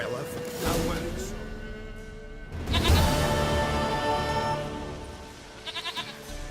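Goat bleating in The Witcher 3: Wild Hunt, a few wavering bleats over game ambience, with speech heard alongside.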